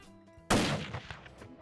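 A single loud rifle shot at an antelope on a Montana hunt, with a sharp crack that rolls off into a fading outdoor echo over quiet open country.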